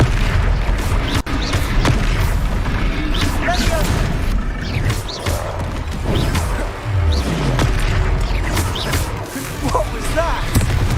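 In Hogwarts Legacy, a Confringo blasting curse bursts with deep booming impacts and whooshes amid ongoing spell combat, dense and loud, with character voices talking over the fight.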